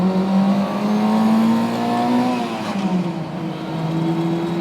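A 1960s Honda S600 coupe engine winds up hard, a loud, rising exhaust and induction howl that climbs through the revs, eases off, then pulls again at low road speed.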